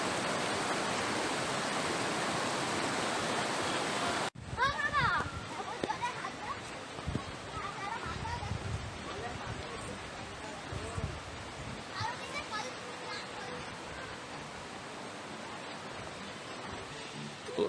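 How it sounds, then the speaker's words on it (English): A river flows at the Siloni picnic spot in Karbi-Anglong, Assam, its steady rushing wash loud and broadband at first, then continuing more softly beneath background chatter and scattered outdoor sounds. "The sound of the river flowing is so much relaxing and peaceful."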